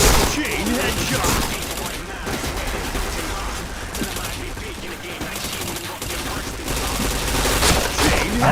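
Rapid gunfire bursts from a shooting video game crackle almost nonstop at close range, with loud fusillade-like volleys and occasional heavier booms throughout.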